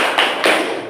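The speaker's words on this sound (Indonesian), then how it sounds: "Siapa suka hati tepuk tangan." Children clapping their hands along to a song, heard as two sharp, close claps in quick succession, with no talking over them.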